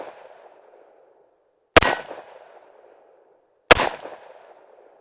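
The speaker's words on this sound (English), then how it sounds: "Let's go ahead and shoot this gun." A Tommybuilt T7 MP7 clone fired twice, two sharp loud cracks well apart with short ringing tails, outdoors over a quiet background.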